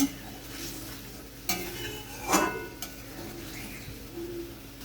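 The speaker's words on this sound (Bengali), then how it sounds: "একটু খুন্তি দিয়ে ভালো করে নাড়াচাড়া করে নেব" A spatula stirs ground turmeric and salt into simmering fish gravy for a Katla fish curry, giving soft scraping strokes with a few sharper clacks against the pan over a faint background hum.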